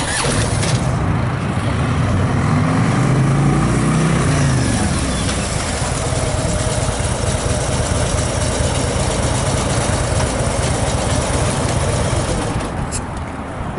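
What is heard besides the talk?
motorcycle threshold braking without ABS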